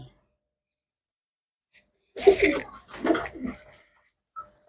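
Pet pigeons coo close by in two soft, throaty, burbling phrases separated by a short pause, with quiet stillness around them.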